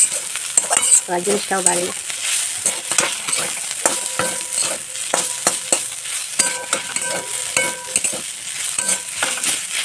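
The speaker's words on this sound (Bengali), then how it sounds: "এই আলু ভাজার তেলটা একটু বেশি ছিল বলে সেই জন্য আমি শাকটা ভাজতে দিয়ে দিলাম" Leafy greens (shak) frying in leftover oil from frying potatoes, giving a steady sizzle with frequent scraping and stirring clicks of a utensil against the pan; a brief voice speaks early on.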